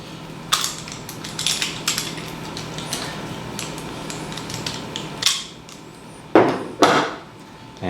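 A right angle pulling head comes off a blind rivet nut installation tool, making a series of sharp metallic clicks, clatters and scrapes at close range with short pauses between handling noises.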